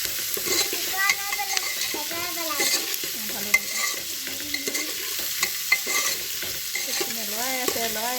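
Joha rice pulao fries in a pan under close, repeated stirring, with scraping strokes over a continuous sizzle.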